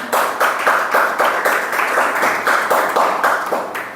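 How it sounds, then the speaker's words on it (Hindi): An audience applauds Revati, steady crowd clapping with rhythmic surges, loud and close, with no talk over it. "इस उम्मीद के साथ एक बार फिर से रेवती के लिए तालियां बजाई जाएं ज़रा ज़ोरों से।"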